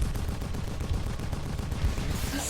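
Dense rapid gunfire from the twin-stick shooter video game Assault Android Cactus, a continuous rattling stream of shots with heavy low-end thumps, loud and unbroken throughout with no talking.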